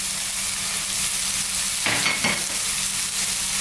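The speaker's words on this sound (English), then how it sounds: "We're going to start off by dropping in those onions. And the minced garlic and ginger." Onions with minced garlic and ginger fry in hot mustard seed oil, making a loud, steady, near sizzle with a short burst of stirring partway through.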